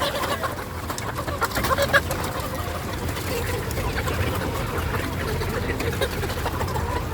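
A flock of chickens and roosters at a poultry farm clucking in the background while someone talks over them, the birds' calls scattered and fairly close.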